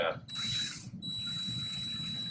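Drill boring out a screw hole in drywall, a short close whirring and grinding burst with a steady high tone, brief and fairly quiet.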